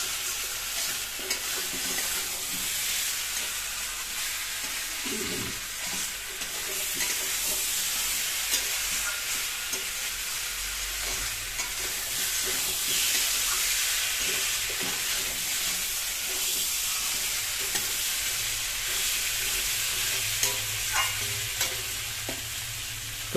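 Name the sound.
sautéing onion, garlic, ginger and spices for khichuri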